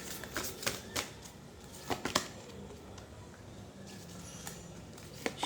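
Tarot cards being shuffled and handled up close: quiet, irregular papery snaps and riffles in short bursts with softer rustling between them.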